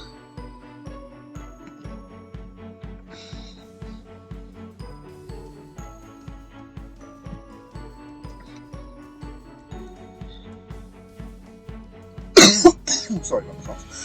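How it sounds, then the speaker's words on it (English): A commentator coughs during live commentary on a competitive online battle match. One loud, harsh burst of coughing near the end breaks through a quiet, steadily pulsing music background. "Sorry about the cough."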